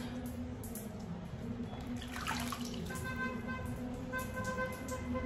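Tap water runs steadily into a sink while someone washes their face, a continuous close splashing stream that lasts the whole stretch with slight shifts as hands move through it.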